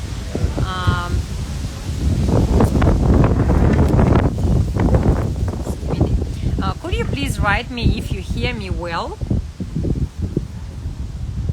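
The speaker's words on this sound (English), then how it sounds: "because it's really windy here" Heavy wind buffets the microphone in a constant low roar while a person talks over it.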